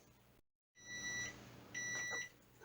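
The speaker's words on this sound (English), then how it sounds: "there's the timer" An oven timer beeps when a batch of turkey, squash and berry dog treats finishes baking, giving two long, steady electronic tones with a short pause between them, clear and close in a quiet kitchen.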